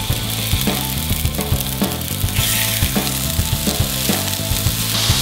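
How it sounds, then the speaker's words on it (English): Loud, steady sizzling of chicken frying in a pan for manicotti, with a constant crackling hiss and small pops and clicks throughout. "I hear some sizzle."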